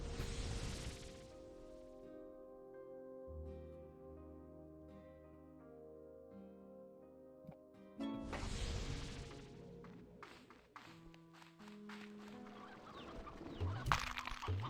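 Chickens clucking in the video game Slime Rancher 2, several close, scattered clucks and squawks over a sustained musical game soundtrack, with whooshing effects near the end.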